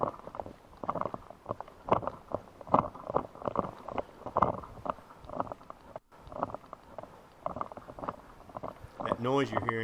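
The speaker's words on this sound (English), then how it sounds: "That noise you're hearing is just the PVS-14 rattling on the helmet." A PVS-14 night vision device mounted on a helmet rattles with soft, irregular clicks and knocks during a night hog hunt with an Airforce Texan air rifle, close to the microphone, with wind and faint rustling behind.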